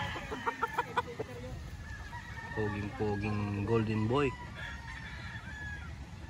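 Gamefowl at a game farm in Tanauan, Batangas give a rooster crow and several clucks and calls, fairly close, while someone speaks in between.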